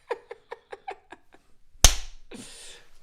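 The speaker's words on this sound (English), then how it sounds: "Clap." A sharp, loud single hand clap for a sound check rings out alone after a run of quick light taps and is followed by a brief faint noise.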